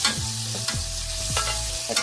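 Garlic sizzles as it drops into a hot pan for lamb chops, a steady loud hiss carrying short tonal scrapes and squeaks from the pan throughout.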